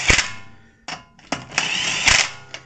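An impact power tool on a low torque setting tightens lug nuts on a Toyota Prius wheel, giving several short loud bursts of rattling whir separated by brief pauses, close by.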